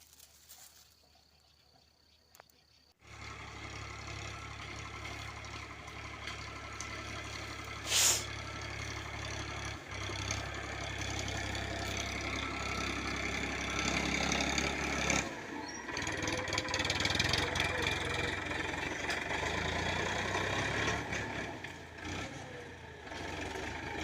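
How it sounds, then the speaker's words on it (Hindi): A tractor engine runs in a farm field, a steady loud low rumble that starts abruptly after a quiet opening and continues throughout with slight changes in tone, no talk over it. "तो देखिए ट्रैक्टर"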